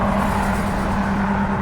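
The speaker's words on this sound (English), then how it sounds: "I'm sorry about the traffic" Steady road traffic on a busy street heard from the roadside during a walk, a continuous loud rumble and whoosh of cars passing with an engine hum throughout and no pauses.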